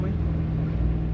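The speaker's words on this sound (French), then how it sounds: "Attends, là elle fait du bruit. Elle est en essorage," Nanova washing machine in its spin cycle, a steady, dense low hum and rumble with a constant motor drone, close and continuous throughout, with no voices over it.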